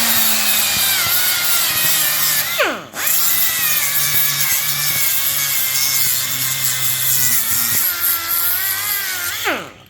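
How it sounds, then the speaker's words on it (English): A power tool grinds rust and scale off a Bombardier manifold surface, a loud, close, continuous whine that briefly drops and spins back up twice. "Just to get the rust and the scale off so you have a nice flat surface"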